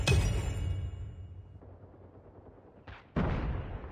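Two sharp sniper rifle shots from Call of Duty crack out, one at the start with a long decaying tail and a second near the end, with a fainter mechanical click between them and no speech.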